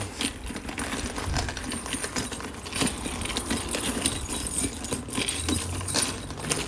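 A bunch of keys jangles and clinks continuously while someone rummages to find them, a close, steady metallic rattling with scattered sharper clicks and no talking.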